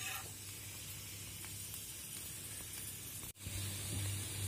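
Vegan sausages from Mercadona fry in a pan, giving a steady, close sizzle and hiss that runs almost unbroken, with one brief dropout near the end before the crackle resumes.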